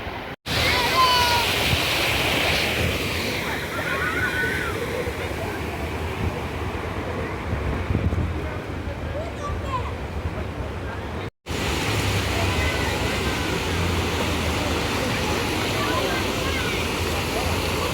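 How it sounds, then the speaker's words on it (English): Floodwater rushes across a road during a heavy rainstorm in Dubai, a continuous loud roaring wash. Crowd noise and voices sit faintly underneath, and there is a brief cut near the end. "There's water from that side coming onto this road."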